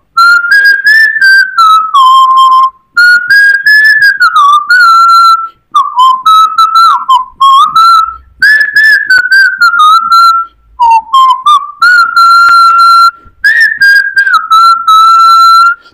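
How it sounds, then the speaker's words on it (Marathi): A person whistles a song melody, loud, clear and near, in long sustained tuneful phrases with brief breaths between them and no other sound. "मी शिट्टीतून गाणं म्हणून दाखवणार"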